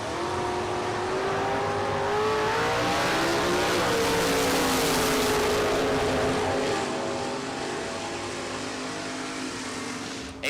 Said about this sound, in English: Chris Pinter, left side, another 68, 67-ish Camaro.